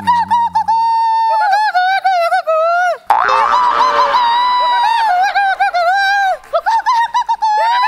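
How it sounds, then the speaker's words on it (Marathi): Loud, close bird calls with sliding, honking tones repeat in quick bursts, broken by short pauses and a sharp break partway through. "मग हा कोणत्या तरी पक्ष्याचा आवाज आहे"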